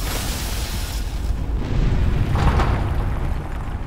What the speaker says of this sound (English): That's a gas grenade.